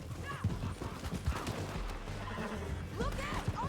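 A horse neighs in Red Dead Redemption 2, with loud whinnies at the start and near the end, plus hoofbeats, clattering action noise and characters talking.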